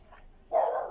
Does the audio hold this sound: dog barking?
yes